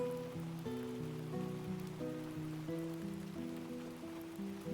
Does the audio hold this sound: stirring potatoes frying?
no